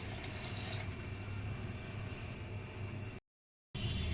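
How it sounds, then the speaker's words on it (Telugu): Water is poured into a pan of ivy gourd masala curry, a steady close rushing splash that cuts out briefly near the end and then resumes. "ఇప్పుడు వాటర్ పోసుకుందాం."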